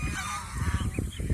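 A goose on a goose farm gives a short burst of nasal honks, close and fairly loud, with a brief rapid series of calls.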